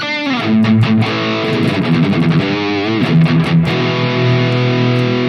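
A high-gain electric guitar preset modeled on a Marshall JVM 4x10 on a Headrush unit plays sustained, heavily distorted chords with shifting notes and a brief riff, loud and continuous throughout, with no voices.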